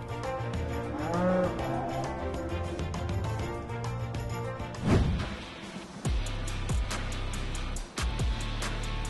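Cows mooing repeatedly in a busy dairy milking parlor, with long low calls rising over a steady mechanical hum and clatter of milking equipment, plus occasional bangs and clanks.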